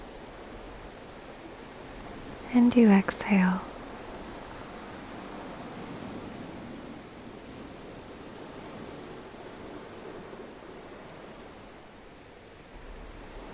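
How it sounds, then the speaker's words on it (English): Ocean surf rolls steadily onto a beach as a low, constant hiss with gentle swells, while a calm voice speaks briefly near the start. "You take a slow, peaceful breath in as you notice the rhythm of the ocean."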